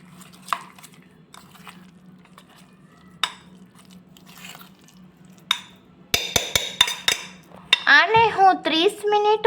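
A spoon mixes semolina dhokla batter with sugar and salt in a bowl. It makes sparse, soft scrapes, then a quick run of sharp metal clinks against the bowl, with a voice briefly audible at the end.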